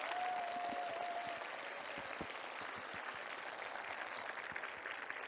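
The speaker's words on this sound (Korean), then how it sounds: "여러분 하늘까지 들릴 수 있도록 여러분 박수 한번 부탁드리겠습니다." An audience at an outdoor talk concert claps together in sustained, even applause, dense and steady from start to finish, with a brief whistle at the beginning.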